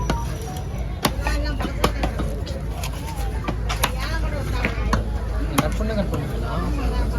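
A knife chops a big red snapper at the Kasimedu fish market, striking in sharp, irregular thuds over steady crowd babble and nearby talk.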